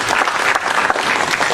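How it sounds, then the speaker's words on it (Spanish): An audience at a lecture on disaster risk management and governance claps for the speaker, Melvin Rodríguez Minchola, in a short, loud, dense burst of steady applause. "para quien pedimos un fuerte aplauso"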